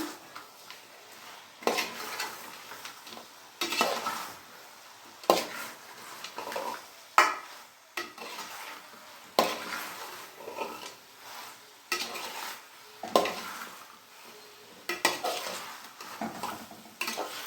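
A spoon scrapes and clatters around a pan as fried gobi manchurian is tossed and mixed, with regular rhythmic stirring strokes and a faint sizzle underneath, no talking.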